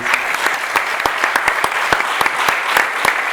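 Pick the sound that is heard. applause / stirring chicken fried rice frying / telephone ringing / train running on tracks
applause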